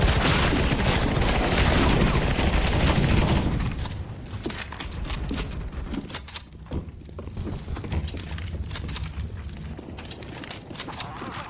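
Gunfire from the video game CS:GO opens with a dense, loud volley of shots, then drops to scattered, quieter reports and clatter over a busy game background.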